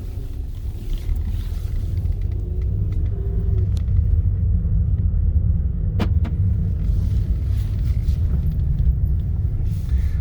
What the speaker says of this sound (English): Heard some rattles in here.